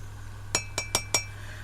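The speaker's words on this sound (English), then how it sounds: "I'm just tapping them on my water." Small glass items tapped against a drinking glass of water: four bright, ringing clinks in quick succession, each with a short decay, close and clear in a quiet room.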